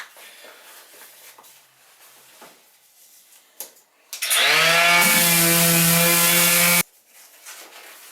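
A DeWalt DCW200 cordless palm sander spins up with a rising whine and runs loud and close for a couple of seconds before cutting off abruptly, with quiet handling noises before and after.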